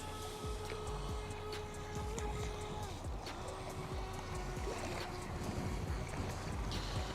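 A Volantex Vector 30 mini RC boat runs on open water on a windy day, its small electric motor whining steadily with a few pitch shifts as it turns, under constant wind and water noise.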